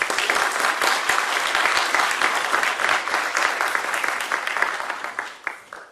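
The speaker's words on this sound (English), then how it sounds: "please join me in a warm and proud applause as we welcome George Saunders and Dana Spiotta" A university event audience gives warm, dense applause to welcome authors George Saunders and Dana Spiotta, with sustained clapping that holds steady and then thins and fades toward the end.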